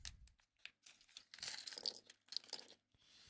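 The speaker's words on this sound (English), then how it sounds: "Let's get our tokens out." Plastic or cardboard tokens for a BLAM tabletop game are pulled out and set down, making a quiet, close string of sharp clicks, clacks and brief rattles with short pauses between them.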